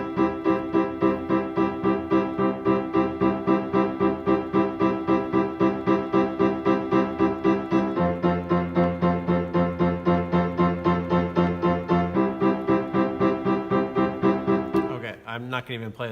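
Simple piano block chords played through a 12-bar blues form with no rhythmic or chordal adornment, struck in a steady repeated pulse, loud and close, with a short pause and new chord near the end.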